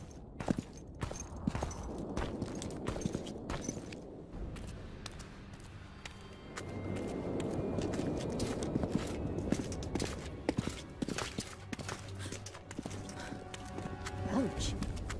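Hooves clop steadily as the horse Roach walks in The Witcher 2, a regular rhythm of close, crisp hoofbeats with a whinny near the start, and a low voice murmuring in the background.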